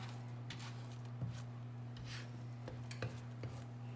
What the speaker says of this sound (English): I'm just moving it around, kind of chopping it up with a spatula.